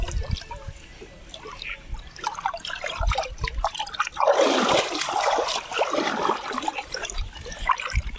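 A carp released back into a gravel-pit lake makes a burst of splashing and sloshing water midway, louder and fuller than the quieter trickles and drips before and after it.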